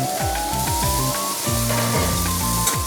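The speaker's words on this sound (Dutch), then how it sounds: "De gambas die bakken we in olijfolie met een beetje knoflook." Continuous loud crackling sizzle as prawns cook in hot olive oil with a little garlic, with occasional stirring in the pan and no voices.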